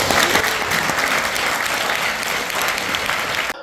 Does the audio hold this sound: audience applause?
yes